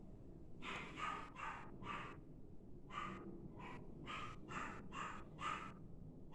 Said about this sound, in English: They bark whenever they hear the phone come down because they think I'm done.